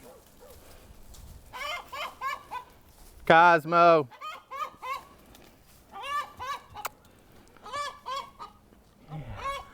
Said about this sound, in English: Look at that squawking chicken.